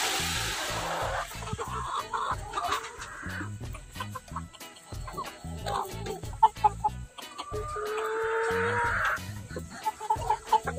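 Chickens at a farm garden cluck repeatedly in short, close bursts with occasional louder squawks, over wind and light background noise.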